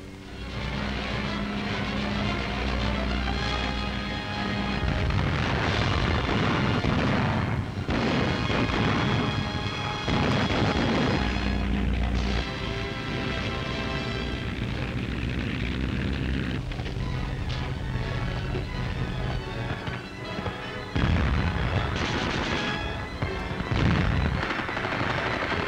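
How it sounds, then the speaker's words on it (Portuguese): Aerial bombing of Soviet field fortifications near Kerch: rumbling booms and bursts of gunfire over a constant aircraft engine drone, heavy blasts recurring throughout amid dramatic music. "Os aviões bombardeiam as fortificações da campanha dos soviéticos."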